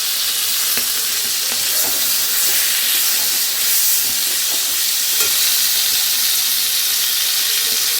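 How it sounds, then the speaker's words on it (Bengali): Broad beans frying in oil in a pan give a steady, close sizzle and hiss that runs unbroken with faint stirring clicks, and no voices are present. "সিমটাও ভেজে নিচ্ছি"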